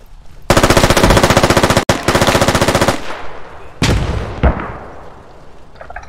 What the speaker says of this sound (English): Tell them to stop firing.